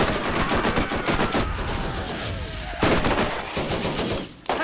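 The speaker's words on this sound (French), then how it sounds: "je sors ma tourelle, parce que ils sont nombreux" A deployed turret in Borderlands fires in rapid continuous bursts at a crowd of enemies, dense and loud throughout, with brief gaps and a sharp jolt of shots near the end.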